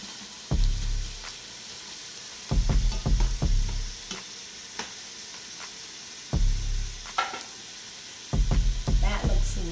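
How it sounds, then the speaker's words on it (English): Vegetables for chicken and rice soup sautéing in a pot, a constant sizzle broken by bursts of louder scraping and stirring that come and go in several rounds. "Let that"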